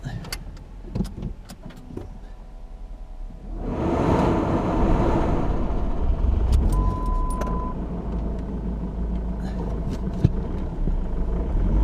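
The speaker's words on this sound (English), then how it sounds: "take this car for a little bit of a test drive, shall we?" A Ford Mondeo MK3 on a test drive. Keys jingle and clicks sound, the engine starts, and then a steady car engine and road rumble carry on loudly from inside the car.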